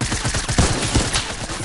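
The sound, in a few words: SMG gunfire in Fortnite video game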